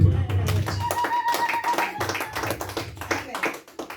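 Church congregation applauding, a dense steady patter of many hands clapping for several seconds, fairly close and full, with voices mixed in and a brief sung or spoken tone.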